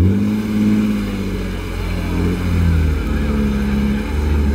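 A BMW E36's engine runs at a loud, close, low rumbling idle and swells in a couple of mild revs before easing back.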